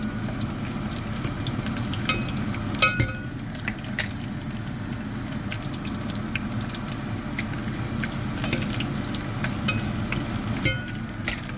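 Chicken feet browning in a pan for adobo, a steady frying sizzle with occasional scraping and clinks of a utensil stirring against the pan, close and continuous.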